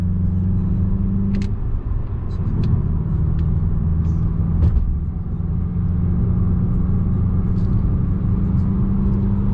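A Renault Samsung SM6 LE sedan drives on the road, its steady low engine and tire rumble filling the cabin continuously, with a few faint clicks and no talk.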